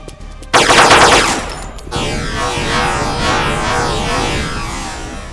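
Rapid automatic gunfire from the online shooter Deadmatter erupts in a loud, dense burst that empties a full magazine, followed by continuing scattered shots and game noise.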